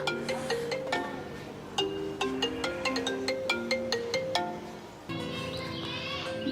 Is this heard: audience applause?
no